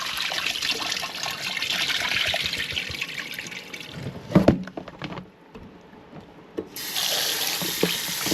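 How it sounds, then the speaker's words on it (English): Water poured off rinsed chicken splashes steadily into a sink, a brief louder slosh midway, then a short lull before the running water resumes. "Pour off this water."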